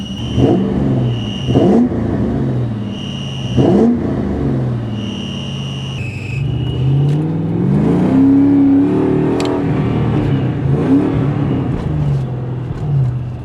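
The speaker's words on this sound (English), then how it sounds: "Does that really say I'm going 90 miles an hour?" A modded Ford Mustang GT engine, with a failing throwout bearing, revs and accelerates hard at high speed, surging in pulses early on, then a sustained rising roar with a whirring tone layered over it.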